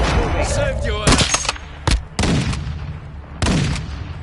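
Sniper rifle shots in a late-game video game firefight, several sharp loud cracks spaced irregularly, with a brief voice and ongoing battle noise underneath.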